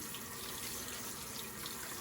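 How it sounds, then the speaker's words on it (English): Hot tap water pouring steadily over cooked taco meat in a colander in a kitchen sink, a continuous close hiss and splash with no talk. "I'm going to run hot water over that meat"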